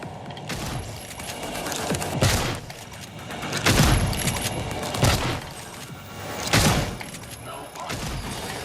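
Shotgun blasts in the video game Prey, five heavy booming shots spaced a second or so apart, loud and close, with a low background hum and some speech in the mix.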